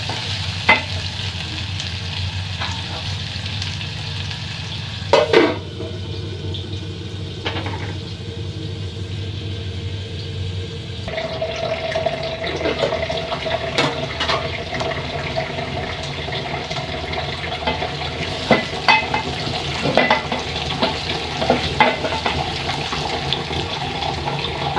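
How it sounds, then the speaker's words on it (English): Garlic and carrots fry steadily in a pan, a continuous close sizzle with occasional stirring scrapes and clinks, the hiss quieting slightly and changing character partway through, no talking. "So let's leave our garlic and carrots to cook for a while."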